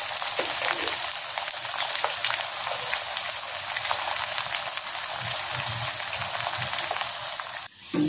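Pieces of tempeh fry in hot oil in a pan, a dense, steady crackling sizzle heard up close and alone, with a brief clatter at the end.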